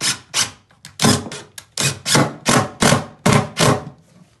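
Inch-and-a-half screws are driven one after another into a chipboard floor fitted over battened joists. About ten short, sharp bursts come in a quick, uneven rhythm, close and fairly loud, with brief pauses between them.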